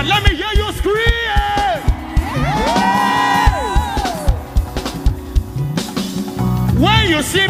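A church crowd at a praise marathon screams and cheers loudly, with rising whoops and yells swelling in waves and briefly dipping before surging again.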